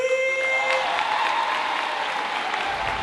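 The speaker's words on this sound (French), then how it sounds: "Est-ce qu'on peut tous s'applaudir?" Crowd at a live show applauds throughout, a dense, sustained round of clapping with a faint cheer, as a sustained musical tone fades out at the start.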